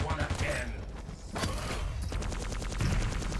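Rapid plasma gun fire from a Quake Champions match, a fast stream of repeated shots with mechanical clatter and game noise layered underneath.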